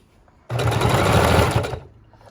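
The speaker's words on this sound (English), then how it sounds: "on my heavy duty machine, I'm going to sew all the way around, reinforcing that edge, reinforcing that stitch" A heavy-duty sewing machine stitching around the edge of a fabric and file-folder junk journal cover: a loud, close burst of rapid needle chatter starts abruptly, runs just over a second, then winds down to quiet room tone.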